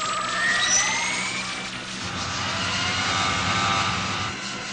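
Roaring engine of a spaceship during an emergency takeoff in a 1985 anime space-sailing film, a loud sustained rumble with rising whining tones layered over it, steady throughout with no voices.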